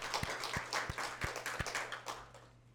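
Congregation clapping during a Korean church Sunday worship service, a few distinct claps spaced about a third of a second apart, moderately faint over a steady hum and soft room ambience.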